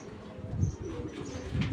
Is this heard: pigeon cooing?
yes